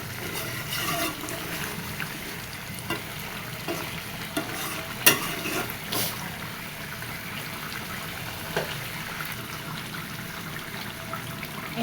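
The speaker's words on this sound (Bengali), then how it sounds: "আর না ঢেকেই এবার কষাবো" Meat curry releasing lots of water is sautéed uncovered in a pan, a steady wet sizzle with occasional spoon scrapes and taps, fairly close and with no talking.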